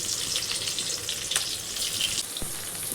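Onions hit hot oil tempered with whole spices and fry with a dense, steady sizzle close by, with a brief clatter from a spoon and no talking.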